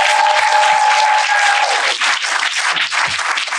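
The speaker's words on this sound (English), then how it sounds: "Clap it up, clap it up, clap it up." Loud, dense audience applause with a few cheers fills the whole stretch at the close of a podcast episode, steady clapping throughout without speech.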